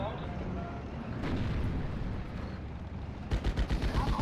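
Artillery and gunfire rumble in a World War II battle in Steel Division: Normandy 44, low booming thuds that end in a rapid burst of repeated blasts, while someone talks over them.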